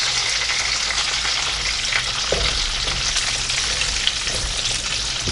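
Bacon cooking in a Range Mate Pro grill pan inside a microwave sizzles and spits continuously, a steady close crackle with occasional sharper pops.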